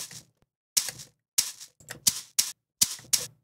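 A shaker sample plays as a string of sharp, crisp rattling hits with strong attacks, irregularly spaced across a few seconds, close and dry with nothing else heard.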